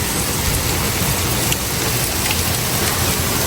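Steady, loud rain pours down outdoors at a vegetable garden plot, a dense continuous hiss of drops with no voices and no thunder audible.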